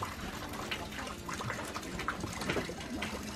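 Water flows from a natural spring, a close, uneven gurgling and splashing stream with small bursts, steady throughout.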